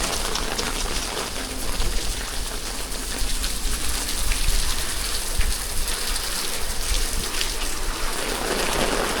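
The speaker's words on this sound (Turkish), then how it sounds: "Yağmur yağdı, güzelleşti." Steady rain pattering on a Şakirpaşa street during a walk, a dense, even hiss of drops on pavement that stays close and constant throughout, with no voices.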